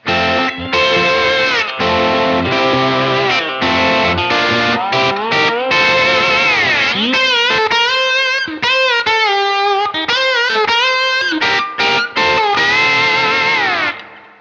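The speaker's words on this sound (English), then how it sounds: "we just have this really interesting kind of off-kilter, quirky riff" A distorted electric slide guitar riff in F with sliding, bending pitches and a quirky, off-kilter stop-start rhythm, loud and continuous with effects-laden tone.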